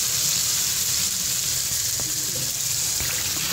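Beef brain goes into a spicy masala cooked in oil, giving a loud, continuous close sizzle and frying hiss with a few faint stirring knocks and no talking.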